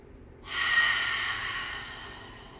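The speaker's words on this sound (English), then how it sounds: "really filling up and then exhaling," A long, deep exhale during a lying-down yoga practice, a soft airy rush that rises suddenly, holds steady for almost two seconds, then fades, close and alone.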